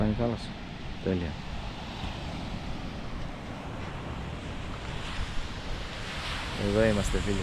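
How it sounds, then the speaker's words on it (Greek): Sea waves and wind roll steadily onto a shore during a south wind of about 4 Beaufort on a fishing outing, a continuous broadband wash with brief voices talking near the start and end. "Η θάλασσα δουλεύει πολύ ωραία."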